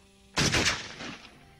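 A single gunshot in an action thriller film, a sharp loud burst followed by a short decaying echo, heard alone with no talking.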